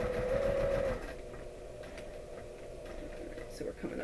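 Sewing machine stitching tiny stitches on a foundation paper pieced quilt block, a soft, steady mechanical whir that is loudest in the first second, then fades to a low, quiet hum.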